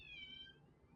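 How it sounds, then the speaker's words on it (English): House cats cry faintly in the background, one short high meow that slides downward over a quiet room hum. "I don't know if you hear my cats crying"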